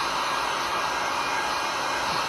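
A blower flash-drying paint for a resin art piece, giving a steady, loud, continuous rushing whoosh that runs unbroken from start to finish with no talk.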